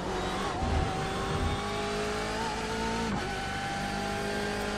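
A BMW race car at Brands Hatch in iRacing holds a steady, loud engine drone with harmonic whine that rises and falls as it shifts through gears, with no talking.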